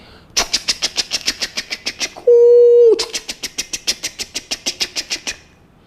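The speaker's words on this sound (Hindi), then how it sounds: "अचानक वहां से एक रेलगाड़ी गुजरी।" A train passes with a steady, rhythmic chugging of sharp puffs, broken midway by a sustained whistle blast before the chugging resumes.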